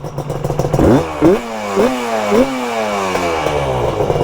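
A motorcycle engine roars close by, bogging down under load as it revs up in several surges that sag and stumble as it strains, with a rattling clatter underneath.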